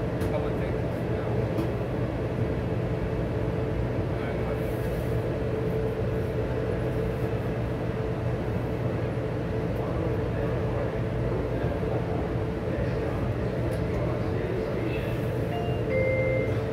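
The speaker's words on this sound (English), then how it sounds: "This monorail continues northbound." Interior of the Las Vegas Monorail riding northbound, a steady, loud rolling hum and rumble with a constant low drone, continuous from start to finish with no breaks.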